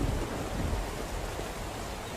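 Rain falls steadily in the open-world game Scum, making a continuous broadband hiss with a low rumble that could be distant thunder. The level stays even and there is no talking.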